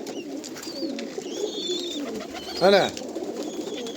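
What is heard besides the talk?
pigeons cooing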